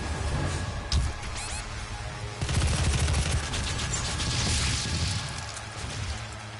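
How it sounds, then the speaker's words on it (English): Automatic assault rifle fire in Doom (2016), rapid bursts crackling over a dense backdrop of game noise and impacts, loud and close throughout with a heavier surge midway. "Assault rifle."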